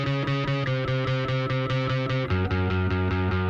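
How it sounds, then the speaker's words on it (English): A heavily distorted bass guitar chugs through a song in a fast, even rhythm of gritty, buzzing notes that drop lower partway through, loud and alone with no talking. "That distortion on the bass gives the song so much more power."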